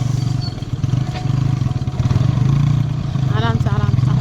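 A motorbike makes its way slowly through a dense crowd, with a steady low engine rumble under loud nearby chatter and voices throughout.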